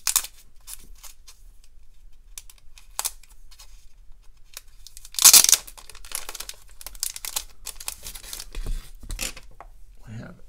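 A foil wrapper on a trading card pin pack tears open in one short, sharp, crinkly burst, ringed by quieter rustling and handling noises with a voice speaking.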